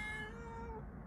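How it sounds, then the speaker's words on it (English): A domestic cat meows softly and steadily for about a second, a faint, drawn-out tonal cry standing alone with no talk over it. "And that is my cat Scout."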